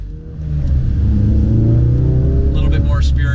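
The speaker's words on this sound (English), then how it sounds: "A little bit more spirited acceleration, just getting into traffic. Exhaust sound is good." A Ford Focus RS with an MRT cat-back performance exhaust growls and rises in pitch as it accelerates into traffic, a loud, deep exhaust rumble close by, with a brief voice near the end.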